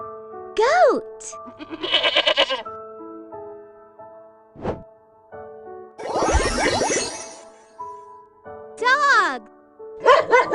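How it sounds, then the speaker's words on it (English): Goat bleats in several wavering, quavering calls spread through the stretch, loud and close, with a voice and short tones in the gaps between them. "What's this? Goat."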